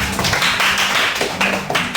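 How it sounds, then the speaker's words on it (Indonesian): A classroom of students clapping together in a short burst of applause, with dense, overlapping claps at steady volume that fill the moment without any talk. "Tepuk tangan dulu."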